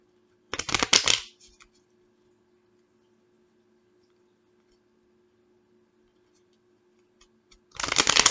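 Tarot cards being shuffled by hand, two short close riffling bursts at the start and end separated by near silence.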